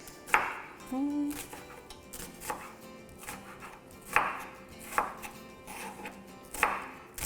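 Onions are chopped on a board for a Tunisian shakshuka: sharp, close knife knocks land at irregular intervals, about ten strikes in all, with a brief clink of cookware between them.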